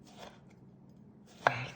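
A knife cutting lemon on a cutting board, two muffled chops with the second sharp and close, separated by a quiet pause.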